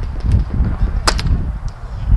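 A Tippmann paintball marker with a Cyclone feed fires a short burst of sharp pops near the one-second mark, then one fainter shot, over steady low rumbling background noise.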